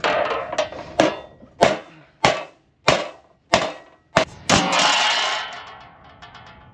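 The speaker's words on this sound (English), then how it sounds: "Metal hammer." Sharp metallic clanks of a metal hammer striking metal, about eight loud, evenly spaced blows, with ringing after the last strike.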